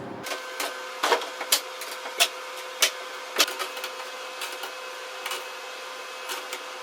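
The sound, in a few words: freeze dryer running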